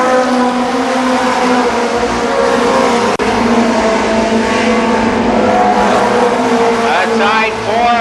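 Race cars on the Columbus Motor Speedway oval battle in a tight pack, engines roaring loud and continuous with a sharp click midway, while an announcer talks over the racing.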